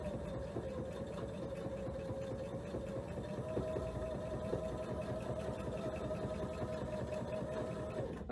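A sewing machine stitching in a quilting demo, a continuous fast rhythmic whirring hum with needle clatter, steady and fairly quiet for the whole stretch.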